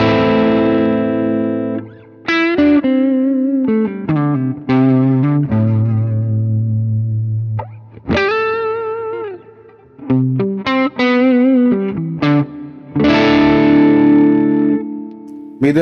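Epiphone Les Paul Muse electric guitar played through its neck pickup on a clean tone, loud single notes and chords in phrases with pauses between, ringing on alone without talking.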